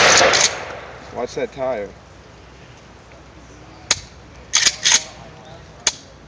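A shotgun fires outdoors in several sharp, loud blasts spaced a second or so apart, with people talking briefly between the shots.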